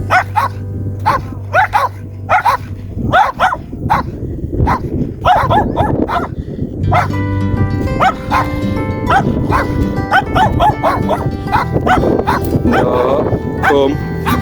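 Dogs bark repeatedly outdoors on a road near the West Highland Way, a rapid run of loud, close barks and yips spread across the whole stretch over wind and low rumbling noise.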